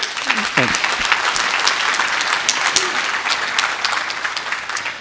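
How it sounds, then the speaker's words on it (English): At the Cyberchess 2019 conference, an audience applauds the speaker with steady, loud clapping lasting the whole stretch, while a voice talks briefly at the start. "Let's give an applause to the speaker."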